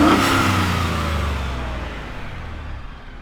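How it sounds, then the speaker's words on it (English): Ford F-150 EcoBoost six-cylinder turbo engine with a cold air intake revving, a loud near rev that winds down and fades over a few seconds, with no talking. "he's revving a 6-cylinder"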